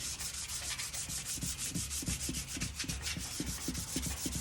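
Steady back-and-forth sanding strokes on the wood of a lamp, a rhythmic, close abrasive rasp repeating about twice a second with no voices.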